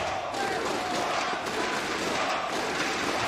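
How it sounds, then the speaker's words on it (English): A large esports crowd at a CS:GO grand final at the V4 Future Sports Festival chants loudly and continuously for Virtus Pro, a dense roar filling the whole stretch. "one fan screams for Mousesports and the entire crowd responds with Virtus Pro"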